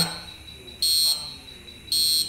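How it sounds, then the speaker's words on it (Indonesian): A piezo buzzer on a motion-sensor prototype sounds in two shrill, high-pitched beeps of about a third of a second each, loud and close, with quiet room noise between them. "buzzer dari piezonya ini akan menyala atau hidup"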